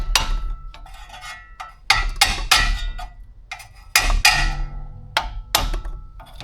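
A screwdriver and small hammer tap a brake line retaining clip free on a Suzuki XL-7, giving sharp metallic knocks in irregular bursts, some single and some in quick pairs, close and clear with quiet gaps between.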